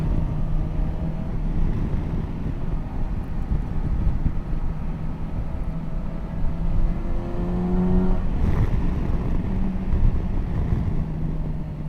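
Steady engine drone of a Kawasaki Versys 1100 SE touring motorcycle while riding through left-right bends, constant and mid-level with wind rush and a slight pitch rise near the end.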